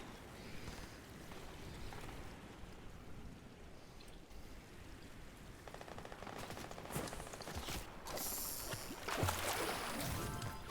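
Gunfire in the video game Fortnite, a mix of rapid bursts and sharp shots at moderate loudness, growing busier and louder toward the end over steady background noise.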